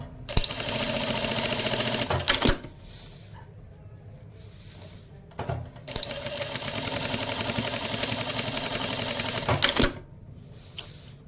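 A DDL-7000A industrial sewing machine runs in two long steady bursts with a dense buzzing whir, each ending in a sharp click as the thread trimmer cuts, separated by short pauses, close and loud.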